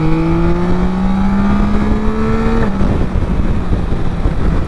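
A Yamaha Tracer 9 Y-AMT 2026 motorcycle engine pulls hard in D+ riding mode, a loud close rising engine whine climbing in pitch, a brief gear change dip, then continuing under heavy wind roar.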